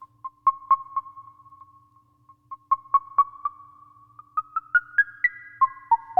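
A Soma Labs Flux instrument fires short, pitched percussive blips in quick succession, each one sounding a bright plucked ping over a sustained tone, with the notes stepping higher and then lower toward the end.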